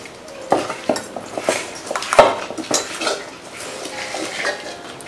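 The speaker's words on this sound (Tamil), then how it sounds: "இப்போ இது எல்லாத்தையும் நல்லா மிக்ஸ் பண்ணிக்கலாம்." Quail being stirred with masala and red chili powder in a metal pan, a spoon clanking and scraping against the pan in irregular strokes, close and fairly loud over a faint sizzle.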